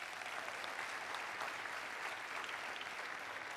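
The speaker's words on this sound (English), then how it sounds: "Let's give them a round of applause" An audience at a community forum claps steadily in a dense, even wash of applause, heard from a distance and fairly faint throughout.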